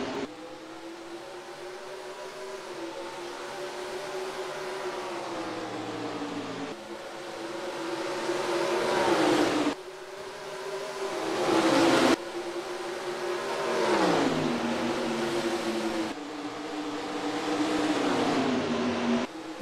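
Simulated NASCAR Craftsman-style race trucks roar off the green flag start at Richmond in NASCAR Racing 2003, a loud, continuous multi-engine drone with rising and falling revs as the pack accelerates and shifts gears.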